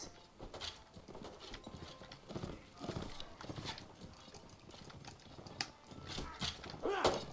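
Horse hooves clatter in an irregular rhythm while riding amid a chaotic Mount and Blade Warband multiplayer battle, mixed with clanks, creaks and distant crowd noise, with faint voices underneath.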